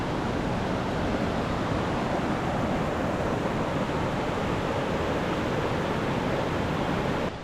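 Loud, constant rushing water roars without a break, a dense broadband wash like nearby river rapids, with no voices.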